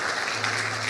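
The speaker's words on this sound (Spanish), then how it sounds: "Un aplauso para ellos, por favor" Church congregation clapping during a sermon, a short burst of steady applause from a crowd indoors.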